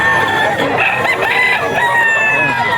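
A tall stag rooster at a pet market in Bocaue crows loudly and close by, its drawn-out call ringing over steady barnyard background noise.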